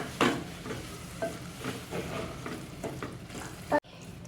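Eggplant bharta cooking on a low flame, a quiet continuous sizzle with repeated soft scraping strokes of stirring and a brief clunk near the end.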